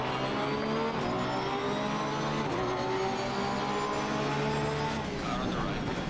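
Several Porsche 991.2 GT3 R racing engines in the game Assetto Corsa Competizione whine and drone continuously at high revs, with a steady buzzing tone throughout and occasional shifts in pitch.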